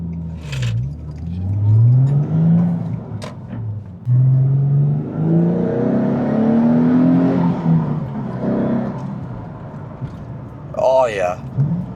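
A Nissan 350Z HR engine revving up through the gears, rising and falling whine as it shifts from first to second, with someone talking over the engine and a brief burst of wind noise near the end.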